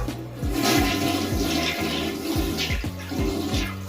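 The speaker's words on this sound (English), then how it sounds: "the water pressure got even worse once I flushed the toilet" A toilet flushes nearby, a steady rushing gush of water with a low gurgling rumble that holds for several seconds, with no voices.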